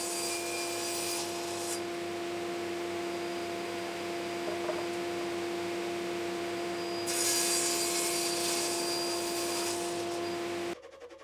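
A wooden tabletop for a modern entry hall table is cut down to final size with a power saw, giving a steady, loud machine whine and rasping cut that brightens and grows louder partway through, then stops abruptly at the end.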